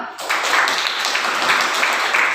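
Clapping from a classroom group fills the space after a short silent start, a steady dense patter of many hands at moderate loudness, kept up evenly to the end.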